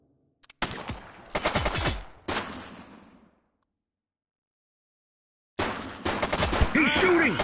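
Bursts of rapid gunfire in The Precinct video game, a loud cluster of shots for about three seconds, then silence, then another dense volley near the end.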